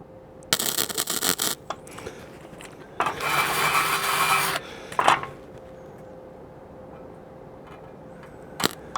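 Rough scraping bursts as slag is rubbed off the end of flux core welding wire, two longer harsh rasping passes and a few short clicks, close and fairly loud with quiet gaps between.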